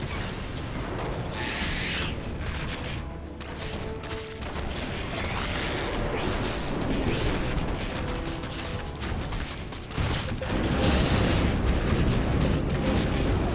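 Continuous game explosions and booming blasts from StarCraft 2: Heart of the Swarm, a dense battle roar that stays loud throughout and swells louder in the final seconds, with no speech.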